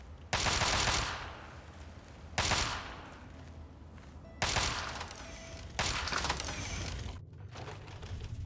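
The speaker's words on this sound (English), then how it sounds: "They have a shooting range over there" Loud volleys of gunfire ring out at a shooting range in Fallout 3, four separate bursts with echoing tails and short pauses between them.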